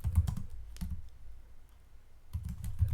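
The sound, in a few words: typing on a computer keyboard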